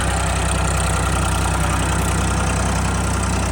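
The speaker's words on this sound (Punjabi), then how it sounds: "ਦੇਖੋ ਬਾਈ ਟਰੈਕਟਰ ਕਿੰਨਾ ਬਲੀਫਾ ਮਾਰ ਰਿਹਾ" Loud, continuous low rumble of a Ford tractor engine running hard while pulling a trolley on a farm, with a steady throbbing pulse and no voices.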